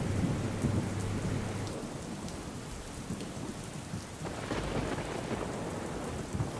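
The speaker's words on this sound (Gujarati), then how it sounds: "જરખિયા ટોળા અડતાળામાં ભારે વરસાદ થયો છે" Heavy downpour in Gir Somnath, Gujarat, with thunder: a steady roar of rain on surfaces, a low rumble of thunder early on and another building toward the end, with no voices.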